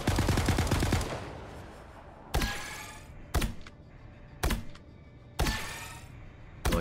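Healing bombs fire in the Marvel Rivals video game: a burst of rapid shots, then four sharp separate blasts spaced about a second apart, each with a bright ringing tail.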